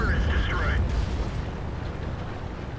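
Artillery fire in a video game's artillery point-of-view battle system mod: a heavy, rumbling blast that slowly fades, with a brief voice over the start.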